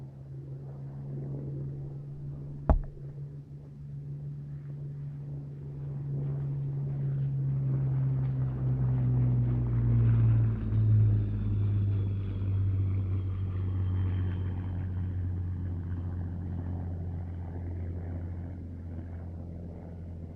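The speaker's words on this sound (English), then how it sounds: "Spitfire's last pass." A Spitfire makes a last low pass over the Duxford airfield at a flying day, its engine drone swelling as it approaches, peaking loud overhead with a brief sharp crack early on, then trailing away steadily.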